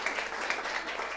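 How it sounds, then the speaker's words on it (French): An audience at a women's event in Africa claps for itself, a short, even burst of applause at moderate volume heard on its own. "Applaudissez pour vous."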